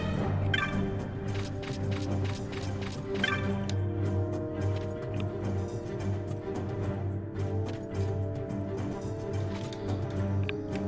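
A Final Fantasy XII track plays steadily, with layered sustained tones and a few sharp percussive hits near the start, without any talking.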